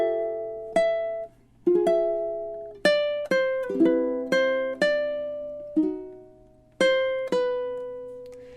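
Measures 9 and 10 of a Christmas song on ukulele: about a dozen crisp plucked notes and chords, close and clear, each one ringing and fading before the next, with no talking.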